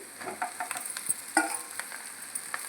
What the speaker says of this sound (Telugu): ఈ పోపులో వచ్చేసి ఇడ్లీ మిశ్రమం అంతా వేసేయాలి